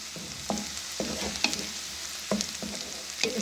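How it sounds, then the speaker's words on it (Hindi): Chopped onions frying in a pan for Lucknow-style mash dal, turning lightly golden, with a steady soft sizzle and a few sharp stirring scrapes recurring through it. "अब हमारे अनियन हल्के हल्के गोल्डन होने की तरफ जा रहे हैं"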